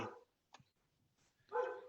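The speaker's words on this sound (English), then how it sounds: "I can hear a dog." A single dog bark, short and sharp, then a brief pause and a louder, longer bark-like yelp, fairly close.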